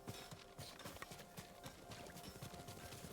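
A horse's hooves clip-clop in a steady, fast rhythm in the video game Ghost of Tsushima, quiet and continuous with no other sounds on top.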